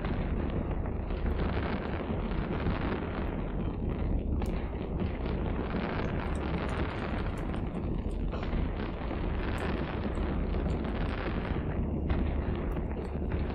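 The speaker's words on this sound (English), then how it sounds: "Oh gosh, an hour long fireworks show." A dense, continuous barrage of overlapping fireworks explosions in the space game Eve Online forms a steady, unbroken roar with no distinct single bangs, loud throughout.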